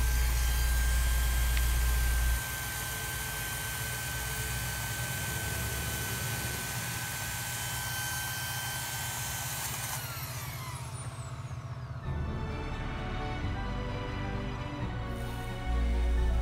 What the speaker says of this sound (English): So here I'm just using an electric chainsaw to cut it down